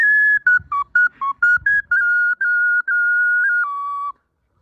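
Handmade pre-Hispanic style Mexican clay whistle shaped like a turtle, played in a series of short and longer clear, pure whistled notes shifting slightly in pitch, close and alone.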